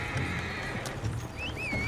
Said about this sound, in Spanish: Caballito, mi caballo, que me siga.